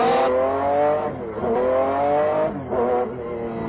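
McLaren F1 GTR race car on a track braking hard and downshifting, then accelerating, its loud close engine note rising and falling in pitch through several rev sweeps with tire noise.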